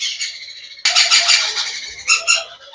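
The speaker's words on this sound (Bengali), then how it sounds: "ইয়ালো রিংনেক নেদারল্যান্ড ব্ল্যাড লাইন দেখেন মাশাল্লাহ কতটা কিউট বেবিগুলো" Shrill, harsh squawks from yellow ringneck parakeet chicks, loud and close, coming in overlapping bursts with a couple of sharp final cries.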